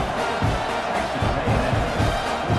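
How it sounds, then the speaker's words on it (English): A football stadium crowd roars and cheers after a touchdown, a dense, loud wall of voices with rhythmic swells, heard up close. "this crowd is feeling themselves after that last drive"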